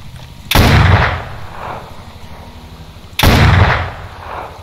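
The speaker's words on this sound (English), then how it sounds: "That sound of the weapon." Gunfire from a weapon in the S.T.A.L.K.E.R. Gunslinger mod, two loud booming shots about two and a half seconds apart, each with a sharp crack and a rolling echoing tail, no talk.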